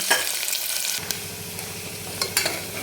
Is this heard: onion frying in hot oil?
yes